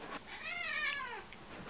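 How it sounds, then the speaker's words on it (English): A single drawn-out cat meow with a rising-then-falling pitch, close and fairly loud, heard on its own while someone holds two cats. "we're gonna be holding two cats."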